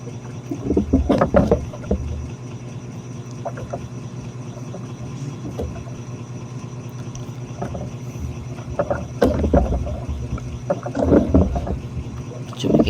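Sea waves slap and splash around a small squid-fishing boat in rough water, with irregular washes and thumps against the hull over a steady engine-like drone and some wind buffeting.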